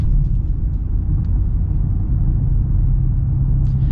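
Engine sound piped into the cabin of a 2025 BMW SUV while driving, a steady low rumble with constant loudness throughout, no voices.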